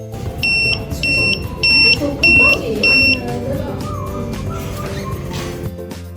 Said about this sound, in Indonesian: lampu indikator merah dan buzzer akan berbunyi